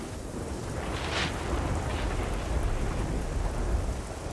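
Thunder rumbles in the survival shooter Generation Zero, a deep rolling boom over steady rain-like hiss, swelling and fading through the stretch with no talk.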